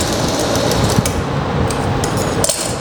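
A sewing machine stitches a straight seam during a basic tailoring lesson, giving a steady close-up mechanical whir with faint clicking that runs without a break and with no talk over it.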